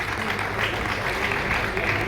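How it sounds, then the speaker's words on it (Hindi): Applause from an event audience welcoming Devendra Brahmachari at a saints' gathering and festival, a steady dense wash of clapping throughout with a voice partly mixed in. "तो आपके कदमों से उनका स्वागत करें जोरदार तालियों के साथ में।"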